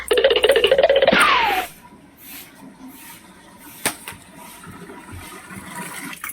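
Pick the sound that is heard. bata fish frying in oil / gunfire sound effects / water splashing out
water splashing out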